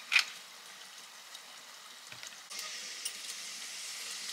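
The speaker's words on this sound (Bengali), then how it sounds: "এবারে ভেজে নেব।" Mustard oil with black cumin hisses in a hot pan while taro flowers are fried, starting as a faint clink and soft crackle, then a steady, quiet sizzle settles in.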